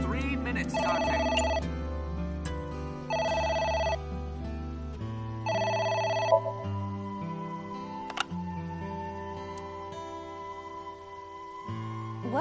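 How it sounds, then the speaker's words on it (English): A telephone rings in three evenly spaced electronic trill bursts over background music, with a faint voice later on. "The phone is ringing."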